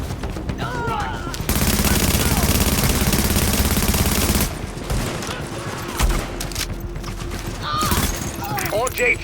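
Rapid bursts of automatic gunfire and a long sustained volley ring out during an end-game firefight in The Division at Grand Central Station, loud and dense, with shouted voices heard over and between the shots.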